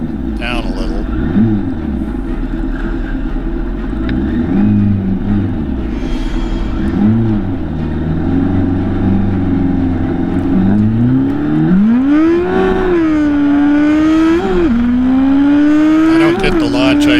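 Drag racing motorcycles at a Wednesday night drag strip event rev and launch, engines rising and falling in pitch, with a loud climbing whine sweeping upward as a bike accelerates away.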